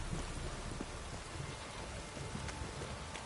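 Steady rain falls in The Witcher video game, a dense even hiss of drops close around with faint scattered patters.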